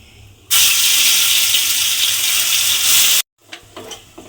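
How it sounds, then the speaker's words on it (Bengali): Spice paste (masala) goes into hot oil for fish kachori and sets off a sudden loud sizzle that holds steady for nearly three seconds, then cuts off and leaves faint kitchen clatter. "এইবার আমি তেলের মধ্যে দিয়ে দেব যে মশলাটা আমি এখানে রেডি করে রেখেছিলাম সেই মশলাটা আমি তেলের মধ্যে দিয়ে দেব"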